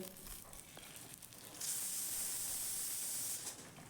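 An egg frying in a pan for egg chilli, a steady hissing sizzle that swells louder partway through and holds close and even.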